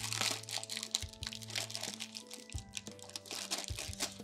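Crinkling plastic candy bag of blue sour-then-sweet Sour Patch Kids being handled and opened, a busy run of close, loud crackles and rustles with steady low tones underneath.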